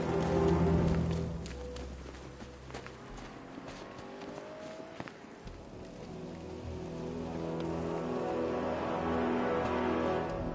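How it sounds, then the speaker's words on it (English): Rain falls across a city street in the video game Batman Arkham Knight, a steady hiss of drops spattering on surfaces beneath low rumbling ambience, alone without talk. "Rain."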